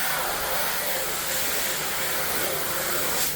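Spray foam insulation jetting into a wall cavity, a loud steady hiss that runs unbroken for several seconds with no voices.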